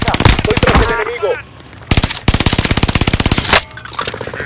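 Rapid automatic gunfire from Call of Duty: Modern Warfare comes in loud, close bursts broken by short pauses, with a sharp shot or two between the bursts.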